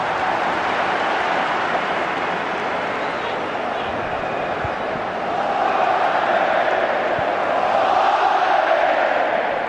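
A stadium crowd at a Portugal versus Spain international friendly football match fills the space with a steady, dense roar. The sound is continuous and broad and stays even throughout, swelling slightly near the end, with commentary murmuring underneath.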